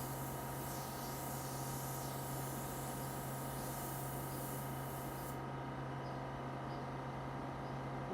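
An airbrush sprays paint onto prints in a steady, even hiss that runs unbroken throughout, with a constant low hum beneath and no voices.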